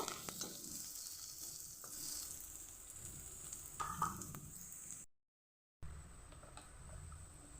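Grated ginger fries in a pan for a Bengali flat-bean curry, giving a steady sizzle broken by scraping stirs. Near a midpoint the sound cuts to brief silence, then a quieter sizzle resumes.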